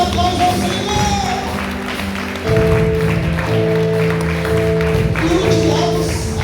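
A church congregation applauds, a dense sustained wash of clapping under tonal music and voices, loud and continuous throughout.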